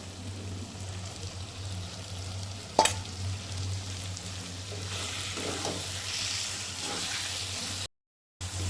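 Prawns fry in hot oil at a steady low sizzle, with a single sharp clatter near the start and a gentle swell of crackling partway through.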